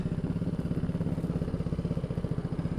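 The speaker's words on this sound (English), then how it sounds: "The idle's a bit lumpy." A 2015 KTM RC390 single-cylinder motorcycle sits idling in neutral, its close, steady exhaust giving a lumpy, uneven chuffing pulse at a quick regular beat, with no voices.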